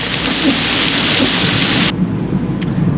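Heavy rain pours steadily at night around a car in Brazil, with thunder rumbling low beneath the hiss; the broadband roar cuts off sharply partway through, leaving a quieter patter.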